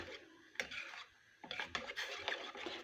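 Eggplant sauce stirred in a pot on the stove, a spoon scraping and clinking against the pot in a few sharp knocks and rubs, close up, with a quiet pause midway and no talking.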